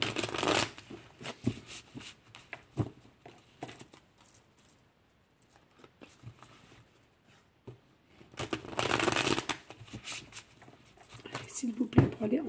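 A brand-new Egyptian tarot deck is shuffled by hand. Soft papery riffles and slides come in scattered bursts, with a longer, louder flurry later and a voice speaking at times.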